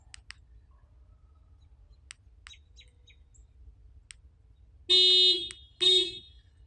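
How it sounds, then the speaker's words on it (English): A few faint clicks, then two loud, shrill electronic alarm bursts with harmonic tones from a Nissan key fob panic button, each lasting under a second, close by. "we're going to let's push the panic button"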